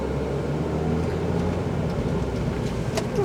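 Steady low rumble and road noise inside a moving car, a constant drone with no talking.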